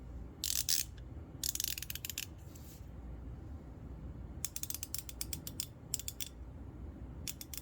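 A DURATECH 90-tooth extra-long-handle ratchet with a socket fitted, clicking in quick fine-toothed bursts separated by pauses, close and clear with no talk.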